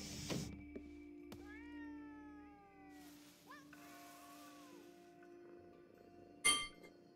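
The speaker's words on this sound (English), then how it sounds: "Okay, so I got all those abandoned cats." Abandoned cats in the video game Ghostwire Tokyo give several drawn-out, gliding meows one after another, faint against a quiet steady hum, with a short sharp clink near the end.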